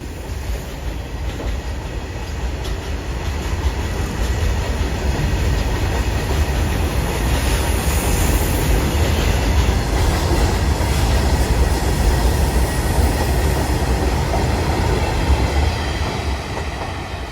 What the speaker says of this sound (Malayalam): WDG4 ട്വിൻസ് ഡീസൽ ലോക്കോമോട്ടീവ് ആണ്.